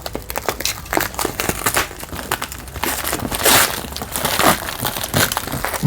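Plastic packaging and wrap crinkle and crunch while a courier-packed Dell UltraSharp 2K monitor is unboxed, a steady run of close, busy rustles and crackles with no talking.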